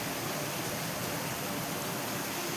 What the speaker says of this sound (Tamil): அகஸ்தியர் அருவியில் காட்டாற்று வெள்ளம் ஏற்பட்டுள்ளது